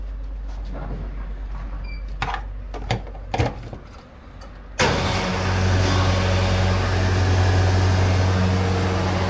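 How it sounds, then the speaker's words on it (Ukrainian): A diesel fuel pump nozzle fills a truck or van at a European filling station: a few clicks and bumps at first, then a loud, steady rushing hum of fuel flowing that carries on without a break to the end. "І пішла заправка."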